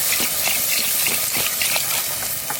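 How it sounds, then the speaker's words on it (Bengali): Water pours in a loud, continuous gush into a cooking pot (handi) for a village-style spicy bai fish curry, splashing and churning close by for the whole stretch, with no talk. "পরিমাণ মতো জল।"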